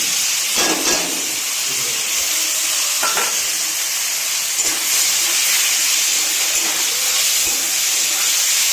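Taro greens tossed into hot oil sizzle loudly and steadily in a pan, with a few clattering stirs breaking through the continuous hiss, close up and with no talking.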